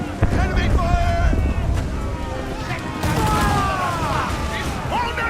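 Enemy gunfire at sea in Assassin's Creed IV Black Flag: rumbling cannon and gun blasts over wind and water noise, with shouting crew voices layered over the battle din.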